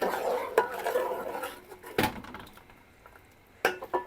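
Metal utensils clink and scrape against a cooking pot while kadhi mixture is stirred, with sharp knocks at intervals over a softer continuous scraping, close and moderately loud.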